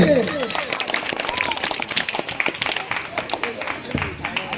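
At a school prize-giving, a crowd claps after a group's placing is read out, giving a busy, continuous patter of hands with voices over it.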